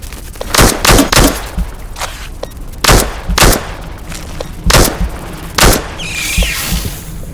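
Gunshots in the shooter game Into The Radius 2, about eight sharp, loud reports fired in uneven single shots and quick pairs, followed by a brief metallic ring.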